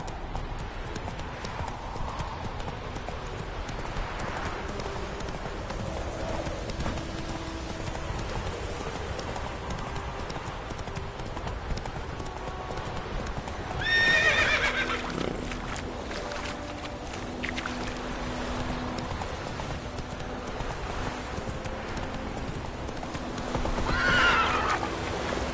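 Roach, the horse in The Witcher video game, gallops in a steady, continuous clip-clop of hooves and lets out two whinnies, one midway and one near the end, amid constant game ambience.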